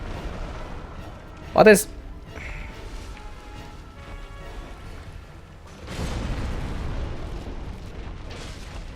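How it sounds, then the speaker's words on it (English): A sharp, loud blast from an explosion in Dark Souls, followed by a rumbling burst a few seconds later, with a player speaking briefly. "Not sure if the explosion radius just gets bigger when the fight progresses"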